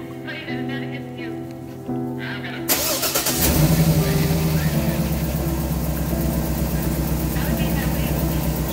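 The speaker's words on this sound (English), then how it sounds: "This is the remote start." A car engine turns over by remote start, catching with a burst and settling into a steady, fairly loud idle; a voice talks beforehand.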